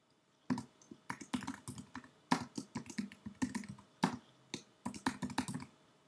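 Typing on a computer keyboard while entering a web page title in code view, quiet clustered key taps in irregular bursts with short pauses between words, close and alone without talk.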